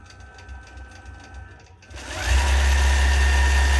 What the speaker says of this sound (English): Now it's going to stitch all the way around.